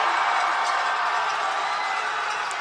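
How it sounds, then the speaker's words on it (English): Basketball arena crowd during a Sudbury Five game, a sustained wash of cheering and crowd noise with faint whoops, filling the space evenly and building slightly. "Crowd starting to pick up."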